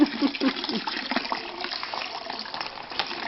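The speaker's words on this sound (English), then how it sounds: "Get all the wine in there." Homemade wine made from fresh vineyard grape juice pours into a container with a steady liquid gush and splash, close and moderately loud, throughout.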